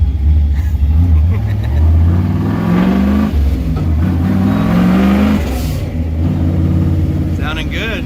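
A turbocharged car engine revs and builds boost close by with a steady, loud rising drone and turbo whistle, while people talk over it.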